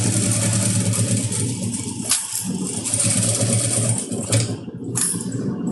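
A sewing machine stitches a patchwork seam on a crazy-patch pouch, giving a close, rhythmic mechanical whirring and clatter that briefly pauses and restarts a couple of times.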